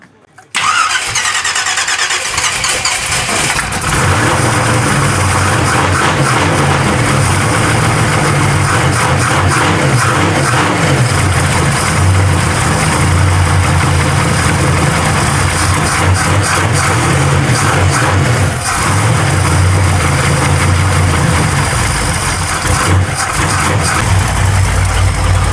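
An old car engine, unable to idle, cranks and catches then runs loud and rough for a long stretch, its revs wavering and surging unsteadily, close up with no talking.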